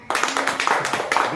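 A classroom of children claps together in a short burst, several quick rhythmic claps close and fairly loud, lasting just over a second with voices mixed in.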